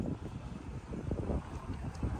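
Wind buffets the microphone in soft, uneven low gusts, a faint steady rush with nothing else standing out.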